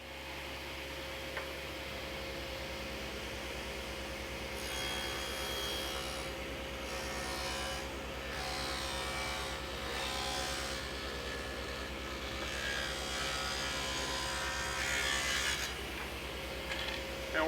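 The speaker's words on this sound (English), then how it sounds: "Now we just turn the board end for end and cut the other track rail" A saw cuts along a wooden board to form a groove for a sliding bypass door track, a steady, continuous rasping drone that runs unbroken and close for the whole stretch with no talking.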